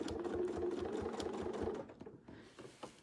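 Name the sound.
sewing machine stitching quilt pieces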